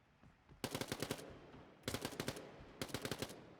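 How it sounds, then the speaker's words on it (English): Gunfire in the Quantum League video game: three close, loud bursts of rapid automatic shots, each a quick run of about six cracks, separated by short pauses. "So Darth is putting some pre-fires down on either side of the cover."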